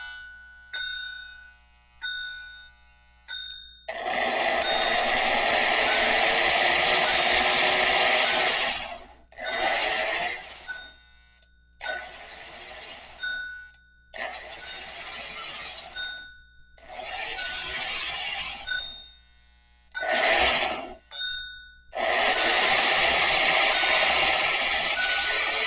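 A Lionel 1656 postwar 0-4-0 steam switcher model train rings its bell in repeated dings, while bursts of motor whir start and stop in an uneven rhythm.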